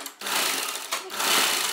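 A sewing machine stitches a double seam joining the shoulder of a tulip-top kurti, main fabric to main fabric and lining to lining, with a loud close whirring run broken by one brief pause.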